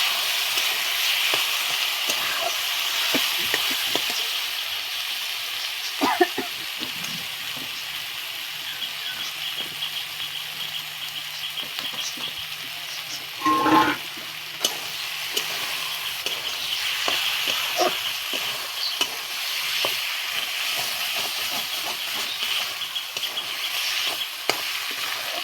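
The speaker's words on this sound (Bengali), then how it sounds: "এর ভেতরে আমি শাকটা দিয়ে দেবো। আমি ভালো করে আবার মিশিয়ে নেব।" Greens stirred into hot oil in a pan, a continuous loud sizzle broken by scraping stir strokes and a brief clatter midway, with no voices.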